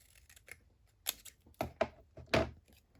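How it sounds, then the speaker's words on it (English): Scissors snip through folded paper during a folio folder craft, a few short sharp cuts spaced about half a second apart, close and fairly clear with soft handling rustle between them. "I'm going to just fold this over and cut that in half."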